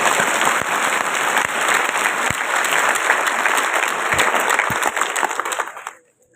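Seminar audience clapping loudly for themselves, a thick sustained wave of applause that fades out abruptly near the end.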